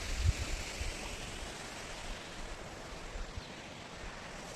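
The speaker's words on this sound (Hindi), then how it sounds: "आवाज़ आ रही ना कितनी अच्छी पानी की" Rushing water of a mountain stream near waterfalls in the Uttarakhand hills, a steady broadband roar with no breaks, moderately loud and continuous throughout.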